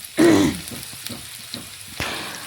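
Chopped onion hitting hot white oil in a wok with a sudden loud sizzle, then settling into a steady softer frying hiss with a second burst of sizzling near the end, close up.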